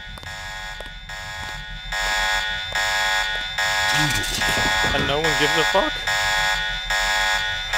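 Loud pulsing electronic alarm in the game Revision buzzes on in a steady rhythmic pattern while someone talks over the middle stretch.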